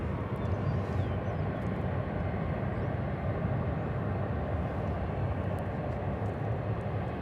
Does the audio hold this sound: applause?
no